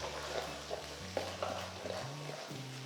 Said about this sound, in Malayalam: ഒരു 4 ടേബിൾ സ്പൂൺ ചേർത്ത് നന്നായിട്ടൊന്ന് മിക്സ് ചെയ്യുക.